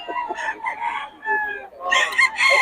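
A bull stag rooster crows nearby in a few loud, harsh bursts, with other fowl calling and a voice briefly under it.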